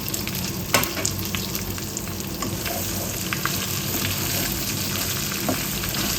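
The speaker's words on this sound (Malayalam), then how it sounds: "ഇനി ഒന്ന് വഴറ്റിയെടുക്കാം." Chopped green and red capsicum sautéing in a pan for garlic rice and garlic paneer, a steady close sizzle with occasional stirring scrapes throughout.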